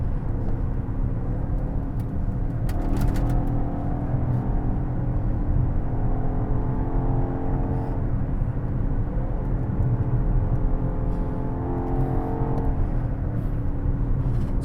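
A 2020 BMW X6M Competition with a 617-horsepower engine pulls hard under acceleration, a steady, loud engine drone with rising harmonic sweeps as it climbs through the gears for a long sustained stretch, no voices.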